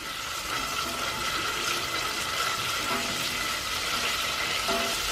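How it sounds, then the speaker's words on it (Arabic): Canned tomato paste frying in a pan gives a continuous close hiss and bubbling sizzle at steady loudness, no voices. "بعد ما تقليت الطوماطيش تاعي مليح"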